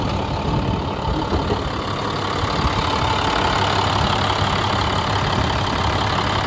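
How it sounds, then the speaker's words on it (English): A 2010 International PB105 school bus engine idles steadily at close range, a constant low rumble with a faint knocking texture and no other sounds. "Motor sounds great."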